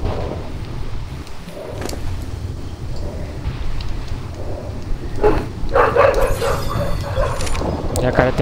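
A dog barks in the Ark: Survival Evolved video game, short yips and woofs mixed with game ambience that swells with rumbling, rain-like noise toward the end; someone speaks over it.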